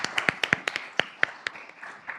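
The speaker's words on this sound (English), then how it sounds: "give him a round of applause" A conference audience gives a welcoming round of applause for a guest speaker, heard as sparse, irregular individual handclaps, crisp and close, spaced out rather than a dense roar, thinning toward the end.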